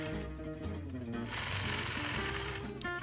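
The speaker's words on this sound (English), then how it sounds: "you can stitch out this design with one single thread line" A sewing machine stitches a quilting design in one continuous thread line, producing a steady mechanical hum with a rhythmic whirr that shifts pitch slightly as it runs.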